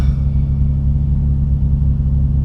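A Nissan Maxima engine idles steadily, a constant low rumble with a faint whine that stays even and close throughout, with no revving.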